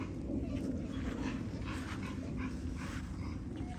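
Several dogs in a kennel yard whimper and whine, a steady blended noise throughout that stays at a constant level without clear separate barks.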